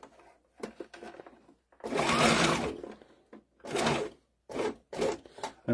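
A sewing machine runs in several bursts, stitching tactical nylon with the stitch count reduced so the presser foot moves faster; the motor whirs loudly up close, with short pauses between runs and no talk.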